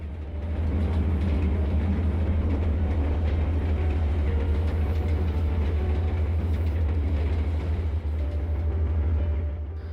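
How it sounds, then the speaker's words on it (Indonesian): The Indonesian passenger train KA146 Empu Jaya roars past at speed, a loud sustained low rumble with rattling rail noise, steady and close throughout. "rangkaian kereta api KA146 Empu Jaya tetap melaju dengan kencang tanpa mengurangi kecepatan"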